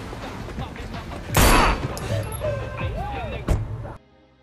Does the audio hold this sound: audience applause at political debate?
no